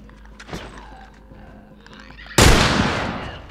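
A single loud gunshot bursts out during gameplay of The Last of Us, decaying into a broad rumbling tail, with quieter ambient game sounds and faint knocks before it.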